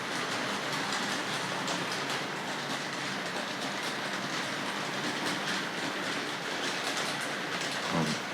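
A Tri-ang Railways R.258 The Princess Royal model locomotive running on its track, a steady close whirring rumble with rapid rhythmic clicking that holds constant throughout, no talking.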